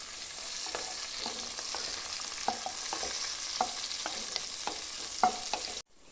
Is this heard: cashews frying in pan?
yes